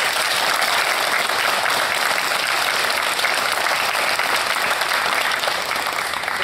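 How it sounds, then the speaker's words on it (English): Steady applause from a concert audience fills the whole stretch, dense and even, with no voices standing out. "if we could give them a round of applause"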